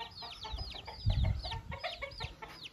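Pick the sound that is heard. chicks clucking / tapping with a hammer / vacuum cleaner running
chicks clucking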